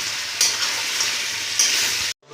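Chili powder stirred into sizzling masala for chicken biryani, a bright steady frying hiss with two sharper spatters from stirring, close and loud, stopping abruptly just before the end.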